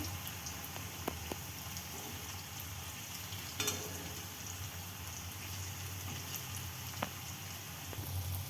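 Jackfruit seed dhoka pieces, just flipped, keep frying in white oil in a karai with a faint, even, rain-like sizzle and a few soft clicks and pops scattered through.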